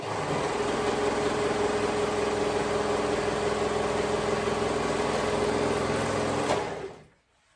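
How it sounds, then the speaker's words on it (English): A sewing machine runs steadily and close by with a continuous mechanical whir while stitching the raw edges of fabric ties together, then stops abruptly near the end. "Then I'm gonna sew it, that raw edges together."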